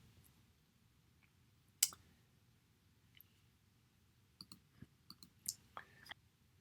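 Computer mouse clicking on links in an online discussion forum: a sharp click followed by several faint, scattered clicks against a quiet background.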